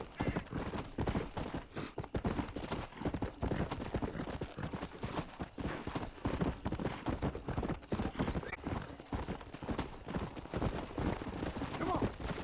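Horse hooves clip-clop steadily on the ground in Red Dead Redemption, a brisk rhythmic trot that stays loud and close throughout, with a horse whinny and other game sounds mixed in.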